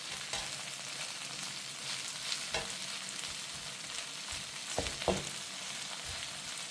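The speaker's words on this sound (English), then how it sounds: "Let that cook down for a bit. Give it a little stir." Onions cooking down in a wide pan for chicken and broccoli rice, a constant close sizzle with a few soft spatula scrapes and knocks as the mixture is stirred, no voices.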